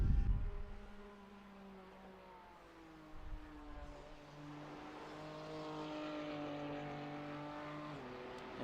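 A BMW race car crossing the finish line in a sprint series race, its engine a steady high drone with rising and shifting pitch, moderately distant and held throughout.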